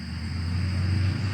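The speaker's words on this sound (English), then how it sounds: "Loud truck, hold on." A loud truck rolls past, its deep engine rumble holding steady and close for the whole moment with no other sound on top.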